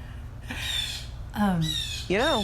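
An Angry Birds toy lets out a few harsh, squawking bird calls in quick succession. The calls are close and fairly loud, with no talking.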